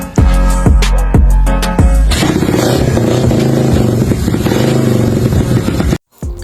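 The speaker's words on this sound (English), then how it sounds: "And it's time to run the engine." A Honda Innova with a 65cc four-valve engine and quick throttle is kicked several times with sharp rhythmic clatters, then fires up and runs loud and close with a steady revving roar before cutting off abruptly.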